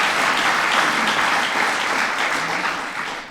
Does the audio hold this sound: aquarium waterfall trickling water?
no